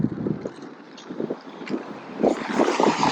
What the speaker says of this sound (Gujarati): હા, જો કે દેખ તમને સંભળાતો જ હશે પવન, મારે કહેવાની જરૂર નથી